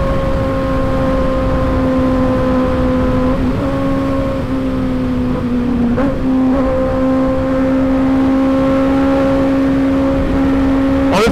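A 2024 Kawasaki ZX-6R motorcycle exhaust holds a loud, steady high-pitched engine drone up close, with a few brief dips and blips in revs.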